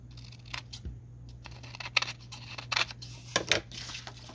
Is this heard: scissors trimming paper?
yes